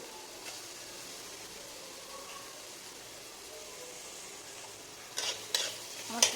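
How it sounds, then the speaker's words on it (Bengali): Tomato goes into a pan of frying rohu fish curry: a faint, steady sizzle under continuous stirring, then a few sharper scraping stirs near the end. "এবার দেবো টমেটো"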